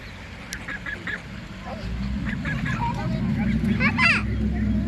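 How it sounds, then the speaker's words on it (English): Geese honk nearby in a cluster of short, nasal calls, loudest around the middle and end, over a low, busy background murmur. "Taking pictures of the geese."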